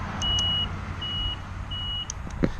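Three evenly spaced electronic beeps from a TaoTao TBR7 Hawk 250 motorcycle turn signal sound over a low idling engine rumble, a short clack near the end.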